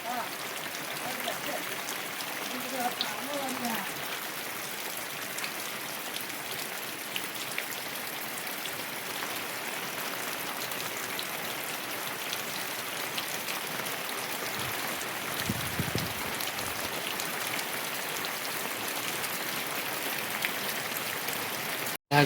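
Heavy rain pours steadily in a village, a constant even hiss of falling water with no pauses. A faint voice is heard briefly near the start.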